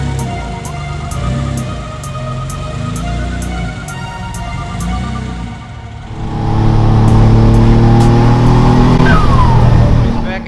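A rebuilt forged twin-turbo Mitsubishi 3000GT with a 6G72 engine idles with a rhythmic ticking, then revs up loudly and pulls away, engine tone rising, close by with a voice speaking over it.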